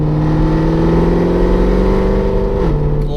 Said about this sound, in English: Love that sound. Absolutely amazing. Oh, the downshifts.